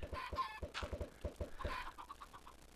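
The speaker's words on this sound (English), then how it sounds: "Yeah, I figured it would be chickens." Video game chickens cluck in quick, rhythmic bursts, close and clear, a short run of clucks and squawks with nobody speaking.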